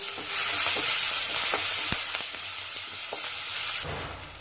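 Cumin, curry leaves and crushed onion sizzle in hot oil while being tempered for an oily brinjal kuzhambu, a close crackling hiss with a few stirring knocks and a louder sizzle surge at the end.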